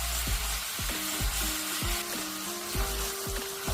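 Bulgogi beef browning in a hot pan with mushroom and onion, a steady close sizzle and crackle broken by repeated scraping and stirring strokes of a utensil against the pan.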